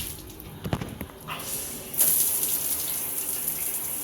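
A hotel room shower head running, water spraying steadily and close by with a brief clatter early on, then a stronger hiss of flow from about two seconds to the end, with no talking.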